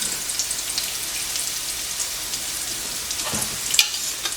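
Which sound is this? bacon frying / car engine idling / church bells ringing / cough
bacon frying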